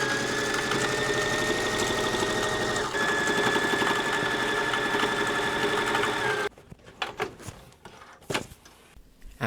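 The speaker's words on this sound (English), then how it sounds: "I want to make sure that the seam on the bottom falls on the correct side while I'm sewing it" A sewing machine stitches a seam in a quick, steady mechanical whir with a brief hitch partway, then stops, leaving soft handling clicks and fabric rustles.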